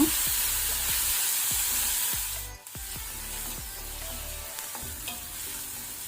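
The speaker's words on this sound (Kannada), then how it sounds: "ಈರುಳ್ಳಿ ಸ್ವಲ್ಪ ಗುಲಾಬಿ ಬಣ್ಣ ಬರುವ ತನಕ ಫ್ರೈ ಮಾಡ್ಕೊಳ್ಳೋಣ" Onions frying in a pan with green chillies while a Goan clam curry is being made, a steady close sizzle with repeated stirring scrapes and knocks of the spoon, no voices.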